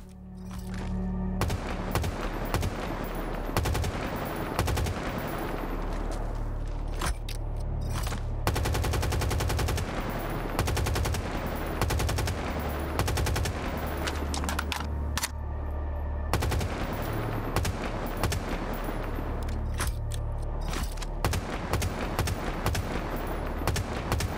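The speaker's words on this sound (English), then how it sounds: "let's test the sound of the weapon" Rapid bursts of automatic gunfire from a modded Halo rifle in Helldivers 2 rattle in long volleys, with short pauses between strings of loud, sharp shots.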